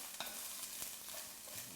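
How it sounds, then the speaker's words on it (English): Ingredients being stirred in a hot pan while cooking, a soft scraping stir with light sizzling underneath, a few faint spoon strokes over a steady frying hiss, quiet and close. "Let me give these a little stir."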